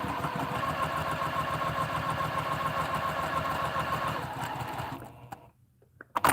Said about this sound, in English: I'm just going to sew. A couple of little locking stitches